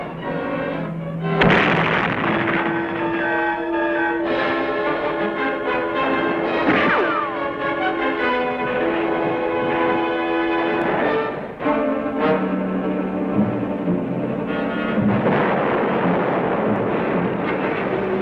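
An artillery bombardment rumbles on without a break, with a few sharper blasts rising out of a dense, loud roar that fills the whole stretch alongside sustained tonal sound.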